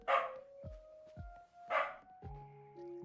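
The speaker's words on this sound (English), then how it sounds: "stop barking at the vent. He's barking at my vent now." A dog barks at a home air vent, two loud close barks about a second and a half apart, over steady electronic musical tones.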